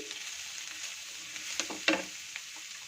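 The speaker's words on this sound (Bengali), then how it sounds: "দিয়ে আমি আবার ভালো করে কিছুক্ষণ সব নাড়িয়ে চাড়িয়ে নেব" Prawns fry with onion, garlic and chilli on a medium flame. A quiet, steady sizzle runs throughout, and a few light clinks from stirring come around the middle.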